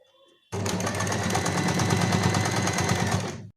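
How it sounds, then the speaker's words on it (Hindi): A sewing machine stitching along the edges of a gown, starting abruptly after a brief quiet moment and then running as a loud, fast, steady mechanical rattle close by until it stops. "इस तरीके से किनारे किनारे सिलाई लगा लेंगे, जिससे अंदर बाहर का भाग एक जगह एडजस्ट हो जाता है"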